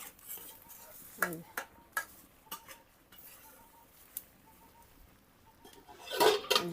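A utensil stirs and scrapes through vegetable curry in a cooking pot in a Bangladeshi home kitchen, giving a few separate clinks and scrapes and ending in a louder burst of stirring, all quiet and close.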